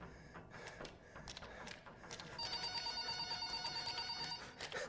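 A telephone rings in the video game Transliminal: Beyond The Backrooms, sounding as a sustained, repeating electronic bell that starts partway through after quiet, scattered clicks, alone without talk.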